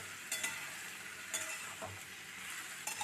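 Diced potatoes, washed and salted, sizzle steadily in a hot wok as they are stirred. A constant close frying hiss is broken by occasional light scrapes and clinks of the spoon against the pan, with no talking.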